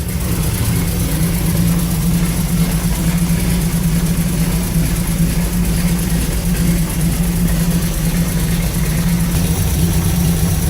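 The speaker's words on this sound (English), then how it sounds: "Idling pretty good today." Old Chrysler slant six engine idling steadily, a loud, even, low rumble with a strong hum and no revving, running alone for about ten seconds.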